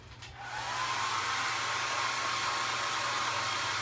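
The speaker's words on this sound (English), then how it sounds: "Now I'm going to dry these babies first." A hair dryer starts up and runs at a steady loud whoosh, drying a painted Dollar Tree egg carton craft project, with no voices over it.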